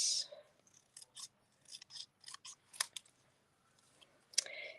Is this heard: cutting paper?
yes